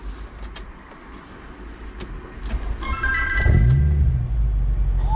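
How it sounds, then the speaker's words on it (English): A car with a newly fitted Milltek Evo2 full exhaust starts up, and its engine rises into a deep, rumbling idle with a brief rev, close by. "This is the first time that we'll have started the engine up to listen to it."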